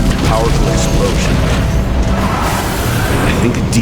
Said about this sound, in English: Powerful explosion.